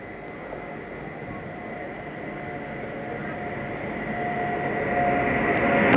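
Swarna Shatabdi Express hauled by a Tughlakabad-based WAP-7 electric locomotive arriving at a station, a steady rail rumble and hum swelling gradually louder as it approaches, with no talk over it.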